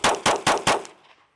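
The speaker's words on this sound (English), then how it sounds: "you're going to come up and fire 6 rounds in 4 seconds" Four loud, evenly spaced pistol shots fire in quick succession during a timed FBI qualification drill at a shooting range, each with a sharp crack and a short ringing tail, ending in a fading echo.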